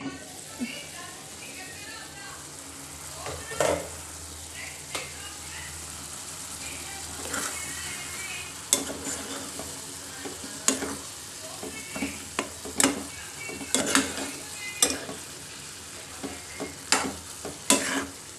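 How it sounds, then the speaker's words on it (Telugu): Tomato curry fries in a pan with a continuous close sizzle, broken by repeated sharp clanks and scrapes of a spoon stirring against the metal, with a voice faintly in the background. "నేనైతే వంట చేస్తా ఉన్నాను టమాటో కర్రీ చేస్తాను అనమాట"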